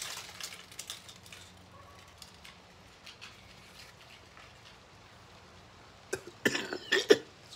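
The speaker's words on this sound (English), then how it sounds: "Morning cough." A few short morning coughs break out near the end after a quiet stretch with faint scattered sounds.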